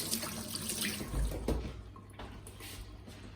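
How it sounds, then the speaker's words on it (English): Hands rinsed under a running kitchen tap while baking a sour cream coffee cake, a close, steady splashing stream of water with shifting gurgles as the hands move beneath it. "I'm gonna rinse my hands."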